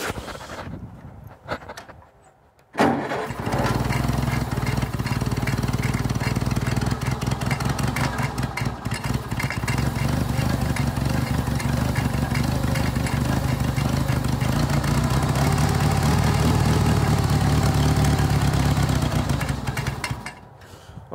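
A Farmall Cub tractor engine cranks for a few seconds, catches and fires up, then settles into a steady, loud, close idle that runs unbroken to the end.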